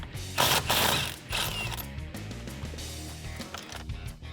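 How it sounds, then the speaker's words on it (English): Impact gun with a 15/16 socket removing the steering wheel bolt on a 2015-2017 Ford Mustang, heard close by as a loud, rapid mechanical rattling and whirring that continues throughout. "I'm gonna use my impact gun here and just get that guy off"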